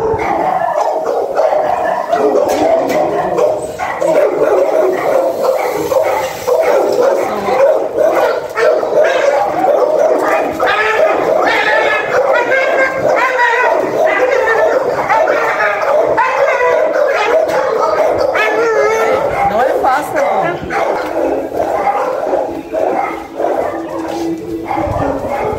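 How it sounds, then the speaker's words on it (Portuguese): Several rescued dogs in Francisco Sá, Brazil, one of them a female hit by a car and her puppy, bark, yip and whimper close by in a loud, busy, continuous chorus. "Agora eu vou tirar o cachorro ali."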